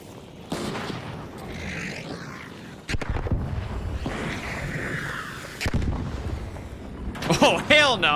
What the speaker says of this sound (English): Who's this guy shooting?